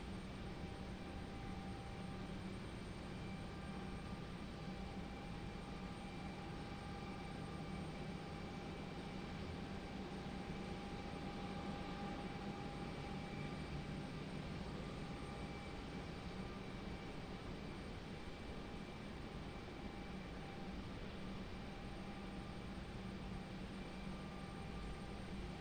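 A distant, steady low roar of an American Airlines airliner departing from an airport toward London, faint and constant throughout with no talk.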